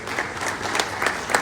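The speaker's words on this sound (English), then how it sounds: "Let's give them another round of applause." Brief burst of conference audience applause at a petroleum exhibition conference, a steady, moderately loud crowd clapping texture with a few louder claps poking through.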